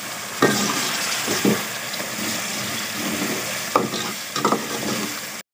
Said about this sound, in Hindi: अब मिसाले को अच्छी तरह से भूनना है ताकि ये प्याज टमाटर और मिसाला ये कुछ भी नज़र ना आए ना।